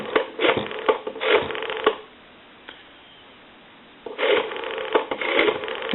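Rotary telephone dialing a number on an old donut-circle phone line, bursts of clicking pulses with a quiet pause in the middle before more pulse trains resume, close and moderately loud.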